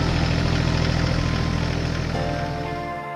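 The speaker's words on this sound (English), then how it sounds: "The orange tractor with the planter attached arrives at the field." An orange tractor pulling a potato planter rumbles steadily out in the field, its engine holding a loud, even drone that eases slightly toward the end.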